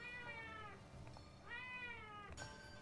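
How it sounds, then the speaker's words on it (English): A cat meows twice, each a drawn-out, fairly loud meow close to the microphone, separated by a short pause, with faint clicks in the background. "stop meowing"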